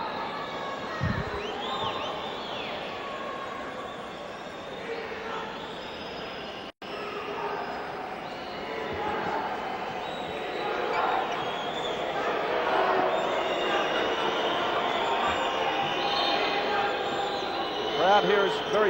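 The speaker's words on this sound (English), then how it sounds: "The crowd here is very vocal." Vocal crowd of fans at a futsal match between Iran and Argentina, a steady broad roar of cheering and chanting that stays loud throughout, with a brief drop partway before the noise swells again.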